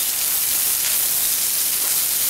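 Onions fry in oil in a pan with a loud, constant hiss that stays steady for the whole stretch, with no talk over it.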